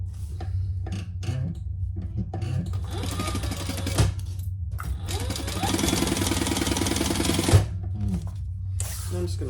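A sewing machine chain-stitches fabric pieces for a messenger bag, running in steady mechanical bursts with brief pauses, close and fairly loud, with faint handling noise and no talk.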